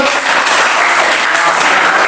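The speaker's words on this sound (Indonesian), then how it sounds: "Berikan tepuk tangan." A classroom of students gives loud, close applause for group 1 after their math presentation, a dense continuous rush of clapping from start to finish.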